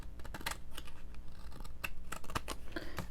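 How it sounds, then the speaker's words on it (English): Scissors snip through trim material while decorating a signature cover, a series of short crisp cuts at close range with irregular spacing, no talking. "now I'm going to cut as close as I can without cutting the material in here"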